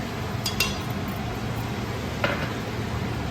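Mutton being sautéed with garlic paste in a pot gives a steady low sizzle, with a few light metallic clinks of a spoon against the pot early on and another near the end.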